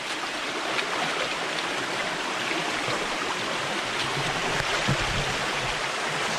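Stream water pours steadily at a waterfall, a dense, continuous rushing wash heard close and fairly loud, with no talk over it.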